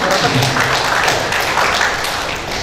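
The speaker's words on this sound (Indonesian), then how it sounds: "boleh tepuk tangan kita." A dense, continuous wash of audience applause at a university event fills the moment at a steady moderate level, with no single claps standing out.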